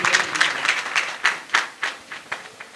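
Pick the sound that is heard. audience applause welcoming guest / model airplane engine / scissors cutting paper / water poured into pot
audience applause welcoming guest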